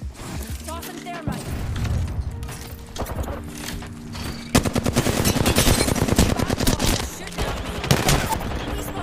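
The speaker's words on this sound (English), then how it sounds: "I got shot in the back, dude." Automatic weapon fire in Apex Legends rattles in repeated bursts, growing denser and louder midway, with game music tones and players talking throughout.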